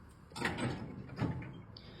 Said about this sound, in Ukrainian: автоматичні двері